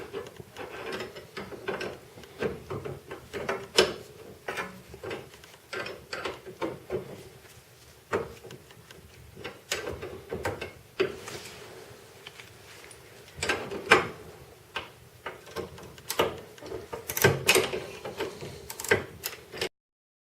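A ratchet wrench tightens bolts on a Volvo C70 strut during a replacement, giving off repeated bursts of sharp metallic clicking in an irregular rhythm, close by and moderately loud, with short pauses between runs.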